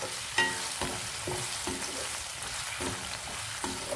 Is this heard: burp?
no